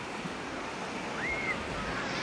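Sea waves at a beach on a warm day, a continuous broad wash of surf with some wind, steady and moderately loud, and a brief faint bird call partway through.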